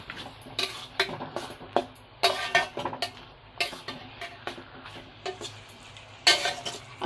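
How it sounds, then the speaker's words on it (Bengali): Chicken keema with cumin and chilli powder sautéing in a pan, a spatula repeatedly scraping and clinking against the metal over a low sizzle, close and irregular strokes with no talking. "দিয়ে এটাও কিছুক্ষণ ভালোভাবে কষাবো"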